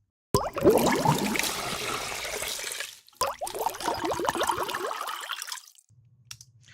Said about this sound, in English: We have drops of water, water pouring, bubbles, and more drops of water